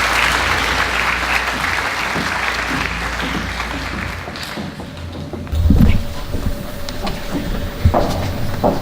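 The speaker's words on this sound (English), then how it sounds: "Could you please give our Year 8 Academic Awards recipients a round of applause?" An audience at a school presentation day applauds Year 8 academic award recipients, a dense, sustained clapping from a large hall crowd that thins out midway, with a few thumps and scattered later claps.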